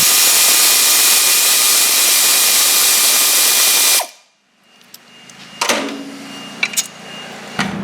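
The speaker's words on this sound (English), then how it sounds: "we can get back up in here with the air ratchet and zippy zap it right out" Air ratchet spinning a bolt out during rear wheel bearing removal on a Ford Fusion, a loud continuous pneumatic whir for about four seconds, then it stops and gives way to scattered clanks and handling noises.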